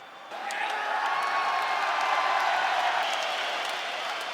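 Arena crowd at a UFC fight erupting into sustained cheering and applause after the final buzzer, a dense, roaring wall of noise holding steady for several seconds.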